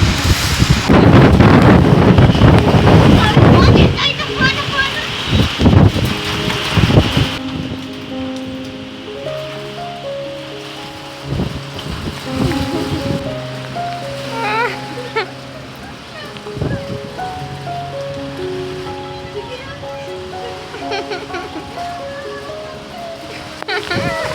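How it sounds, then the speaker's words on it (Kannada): A strong whirlwind with rain roars outdoors as loud, dense rushing noise for the first seven seconds, then eases to a lower background wash while a person talks over it. "ಸುಂಟ್ರ ಗಾಳಿ ಮಾತ್ರ ಬೀಸ್ತಾ ಇರೋದು ಮಾತ್ರ ಕಮ್ಮಿನೇ ಆಗ್ತಾಯಿಲ್ಲ"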